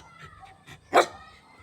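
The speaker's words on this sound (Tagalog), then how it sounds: "Yan yung aso namin, no?" A single sharp dog bark rings out close by, preceded by a few faint, soft noises.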